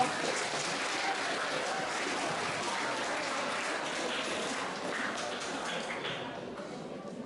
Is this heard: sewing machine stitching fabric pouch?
no